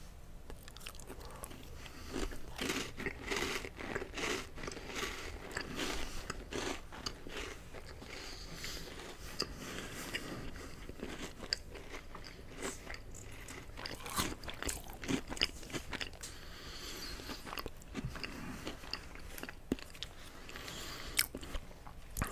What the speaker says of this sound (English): Let's have another cookie.